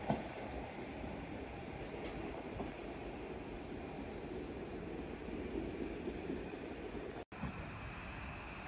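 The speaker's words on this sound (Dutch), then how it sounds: "eindelijk weer een trein naar Roermond" A train rumbles at Sittard station in November, a steady low rolling drone with faint clatter heard from moderate distance, alone without talk.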